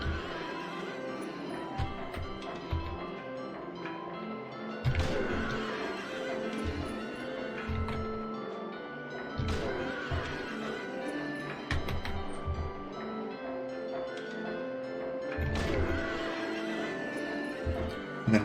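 Several horse neighs and whinnies from Silent Hill 3 ring out over clip-clopping hooves, fairly faint and recurring every few seconds among other game sounds.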